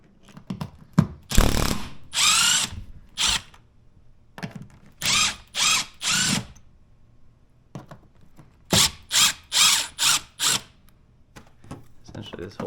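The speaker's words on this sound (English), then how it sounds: "Just going to loosen all these screws." A power driver with a T20 Torx bit loosening screws on a Ford Maverick third brake light, a series of short whirring bursts in clusters, close and loud, separated by brief pauses.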